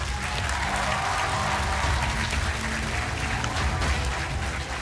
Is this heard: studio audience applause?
yes